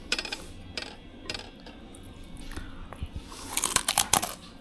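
Crunchy chewing of a crispy fried, donut-like snack taken with a sour drink in Beijing, close up with irregular crackling bites and soft clinks, getting louder and denser toward the end.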